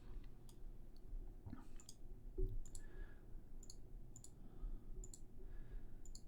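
Mouse clicks sound faintly and sparsely over a quiet low hum while someone clicks through menus in the State of Survival video game, with no talking.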